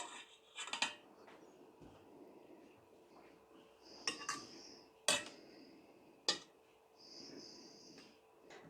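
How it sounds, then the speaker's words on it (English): Sliced potatoes are layered over cheese sauce in a baking dish for a potato, leek and cauliflower cheesy bake, making quiet, scattered clicks and light taps with pauses between them. "you put a small amount of cheese sauce at the bottom, and then just put a layer of your sliced potatoes"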